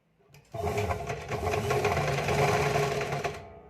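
A sewing machine runs a continuous stitch along the piping edge of a blouse, starting abruptly after a brief pause and whirring steadily at close range for about three seconds before stopping.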